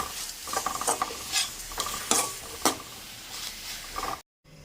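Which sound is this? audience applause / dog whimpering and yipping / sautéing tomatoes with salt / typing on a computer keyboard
sautéing tomatoes with salt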